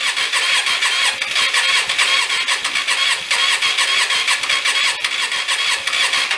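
A Hyosung Aquila motorcycle, left sitting for nine years after dying on a ride and now smoking, cranks and churns with a rapid rough pulsing from the starter, loud and close with no talking.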